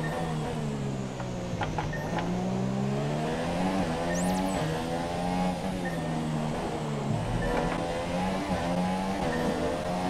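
An F1 race car in the F1 2017 racing game at the Singapore circuit, its engine droning steadily and stepping down through gears as it downshifts, loud and continuous with no talk.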